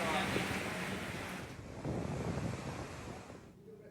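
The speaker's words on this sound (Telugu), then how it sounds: "వర్షానికి బలమైన ఈదురుగాలులకు తోడవడంతో కొండపైన భక్తులు నానా ఇబ్బందులు పడుతున్నారు" Strong gusty wind roars and buffets the microphone with a steady wash of heavy rain on a hilltop pilgrimage site in Tirumala during a low-pressure storm, loud and continuous before easing near the end.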